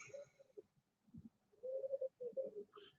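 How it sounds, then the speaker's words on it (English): Outdoor birds call softly, with a dove-like cooing in short repeated phrases and a brief higher chirp at the end, faint and alone. "Birds are being annoying."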